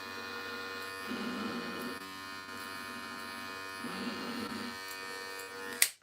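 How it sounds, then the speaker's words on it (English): An electric hair clipper drones steadily through a self haircut, a close, constant buzz that deepens and strains briefly twice as it pushes through hair, ending with a sharp click. "when I put the clipper this way, I'm pushing the hairs as well"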